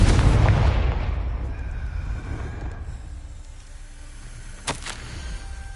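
In Hogwarts Legacy, a Confringo blasting spell goes off in a loud, close explosion with a deep boom that rumbles and fades over several seconds, followed by a brief sharp crack near the end.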